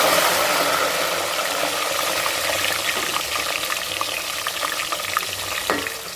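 Garlic fries in hot oil for a tamarind sauce, giving a loud, dense, steady crackling sizzle close up, with a few faint stirring scrapes near the end.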